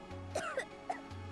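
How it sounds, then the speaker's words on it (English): A female character coughs in the Higurashi When They Cry visual novel, three short hacking coughs close together over a soft steady music bed. "Mion still tried to explain, but ended up coughing instead."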